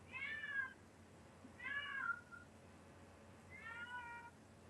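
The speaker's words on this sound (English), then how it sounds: "you have cats." A cat meows three times, drawn-out calls spaced about a second and a half apart, moderately close over a quiet room background.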